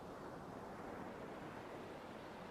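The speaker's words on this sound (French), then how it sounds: "Toujours guidé par le son des vagues qui te bercent" Ocean surf rolls in as a continuous, even wash of breaking waves, soft and steady with no voices.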